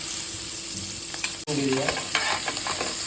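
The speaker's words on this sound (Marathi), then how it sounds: "आता चिरलेला कांदा टाकूया," Chopped onion hitting hot oil with chillies and ginger-garlic paste for veg biryani: a constant loud sizzle and frying hiss, a brief break, then stirring scrapes over continued crackling, close up.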